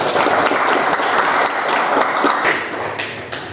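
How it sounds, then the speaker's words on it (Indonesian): Students applauding in a classroom, steady dense clapping from many hands filling the room, loud and close, tapering slightly at the end. "bagus sekali, beri tepuk tangan"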